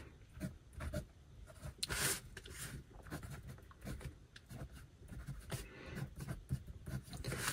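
A medium steel nib on a Pelikan M200 fountain pen scratching across paper, a faint, close, continuous dry rubbing with small bursts as strokes change direction.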